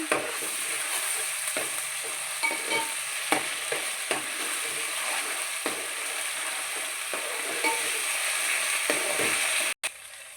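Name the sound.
ginger garlic paste frying in a pan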